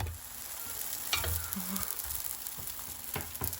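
Leek gözleme frying in a pan just after being flipped gives a steady close sizzle, with a few soft taps and scrapes scattered through it.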